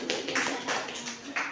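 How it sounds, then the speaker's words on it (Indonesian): Classroom applause for a student group after their presentation, a short burst of scattered clapping with a few distinct hand taps standing out over room noise. "Silakan tepuk tangan untuk kelompok"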